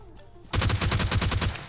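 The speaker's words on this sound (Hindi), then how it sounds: "यहाँ पे पास में मतलब गन शॉट्स वगैरह आ रहे थे सामने की साइड से" Rapid burst of automatic gunfire in the mobile battle royale game PUBG Mobile Lite, starting abruptly after a quiet moment and running as a loud, steady string of close shots.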